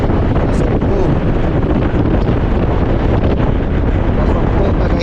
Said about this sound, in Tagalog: Ang lakas ng hangin, mga Kagrasa. Sobra lakas.